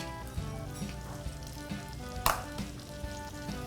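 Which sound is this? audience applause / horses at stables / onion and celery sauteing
onion and celery sauteing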